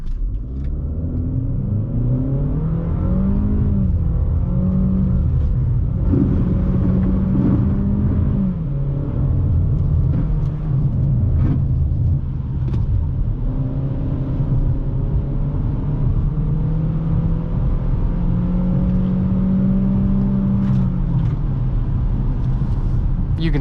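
A 2018 Buick Encore on a night drive pulls away from a stop, its engine droning loudly and rising in pitch through the revs with gear changes, steady throughout and heard from inside the cabin.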